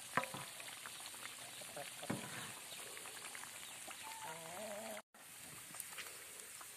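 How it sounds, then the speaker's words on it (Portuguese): Pork pieces frying slowly in a pot, a steady crackling sizzle running throughout, with brief clinks of turning the meat and a short break near the end, under faint background sounds. "Então a gente tem que deixar fritar devagar para que ela fique bem fritinha por dentro."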